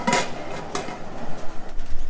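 Crabs are dropped into a metal cooking basket: a few sharp clanks and rattles of shell against metal, close and loud, followed by softer scraping and shuffling.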